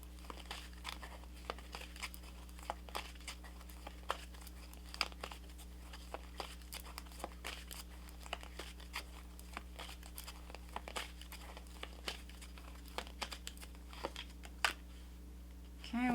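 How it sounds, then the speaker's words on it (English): Tarot-style zodiac cards are pulled and shuffled from a deck, a series of soft crisp card flicks and rustles scattered throughout against a quiet steady hum, close by. "Let's pull you zodiac card."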